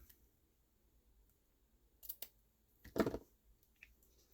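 Scissors trimming a craft ribbon for a bow, a few quiet snips: a light pair of clicks, then one sharper louder cut and a faint final click, close by with no talking.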